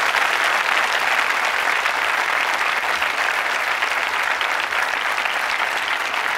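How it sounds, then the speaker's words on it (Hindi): Steady, dense applause from a large audience at a quiz show at Government Women Engineering College, Ajmer, sustained evenly without breaks. "तालियों से स्वागत कीजिए हमारे दर्शकों का।"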